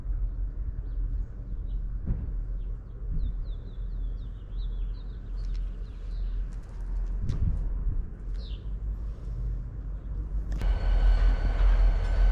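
Train at an Amtrak railroad station in the Southwest, a steady low rumble with faint bird chirps and cooing, building to a louder, harsher mechanical roar near the end, no talking.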